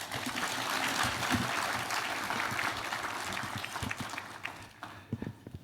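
Audience at a corporate sustainability report launch clapping after a speech, a dense, steady round of applause filling the hall, fading and thinning toward the end.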